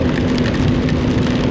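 Heavy rain pours steadily and loudly on a surface in a mini farm, a dense, continuous hiss with no pauses.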